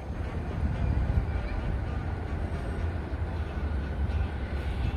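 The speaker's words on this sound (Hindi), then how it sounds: "ये देखिए ये पैसेंजर ट्रेन अभी क्रॉस हुई यहाँ से।" A JR passenger train passes a station in rainy weather, heard as a steady, moderately loud rumble and wash of noise throughout, with rain adding a broad hiss.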